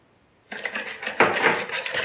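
A utensil whisks a batter of eggs, salt and sugar in a bowl, starting abruptly after a moment of quiet into close, rapid clinking and scraping against the bowl, with a sharper knock partway through.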